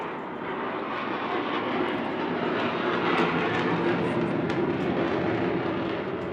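A Swedish military jet flies at the Bournemouth Air Festival, its engine a steady, loud, broad roar that swells slightly and fills the whole stretch without talk.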